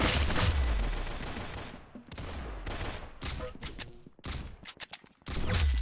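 Video game gunfire bursts, loud and close, in a rapid clustered volley followed by a string of separate sharp shots with short gaps between them.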